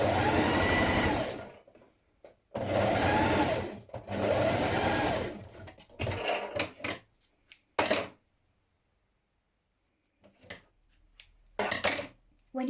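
A sewing machine stitches blouse darts in several bursts, each lasting one to two seconds, with pauses between them, then a run of shorter stops and starts, with near silence before a final brief burst.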